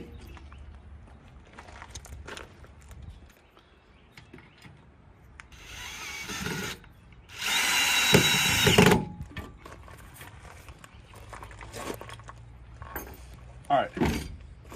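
A power drill drives a bit into screws in short whirring bursts, with one longer loud run in the middle, plus clicks and handling clatter between them; someone talks at times.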